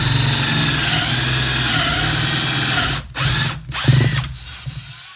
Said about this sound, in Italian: è riuscito egregiamente a fare un buco da 20 mm in questo listello di abete